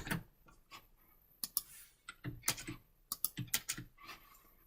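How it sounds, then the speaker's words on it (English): Close computer keyboard typing in irregular bursts of sharp key clicks, clustered toward the second half, with no voices. "You can do this by either click on Add Client IP or manually type in your client IP address."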